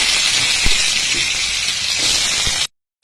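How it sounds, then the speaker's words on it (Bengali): Bay leaf, chilli, black cumin, cumin and cut potatoes sizzle in hot oil with a steady, loud, bright hiss and a few pops, then cut off abruptly into silence. "এখন আমি ওই তেলের মধ্যে দিয়ে দিচ্ছি ফোড়ন, তেজপাতা, লঙ্কা আর কালো জিরে আর জিরে। আর এর মধ্যে দিয়ে দিচ্ছি আমি কেটে রাখা আলুগুলো"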